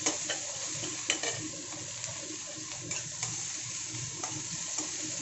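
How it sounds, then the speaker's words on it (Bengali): Panch phoron and onion sizzle in very hot oil left from frying fish, a soft steady hiss broken by the scrape and clack of a spoon stirring in the pan, quiet and close with no talking. "এখন এই তেলে দিয়ে দেবো একটুখানি পাঁচফোড়ন আর পেঁয়াজ। তেলটা ভীষণ গরম আছে"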